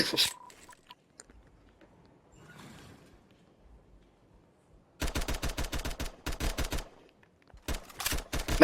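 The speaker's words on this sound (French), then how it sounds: "Mais arrête de tirer sur les innocents." Video game gunfire at an airport breaks out in rapid automatic bursts after a quiet stretch, loud clusters of closely spaced shots with short gaps between volleys, preceded by faint ambient sounds.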